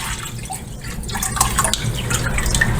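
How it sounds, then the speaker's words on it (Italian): Cold water streams steadily into a cooking pot in a home kitchen, a continuous close splashing and trickling with no voices. "Metto 1 litro più di acqua fredda."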